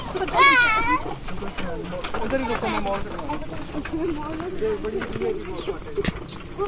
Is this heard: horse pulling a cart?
yes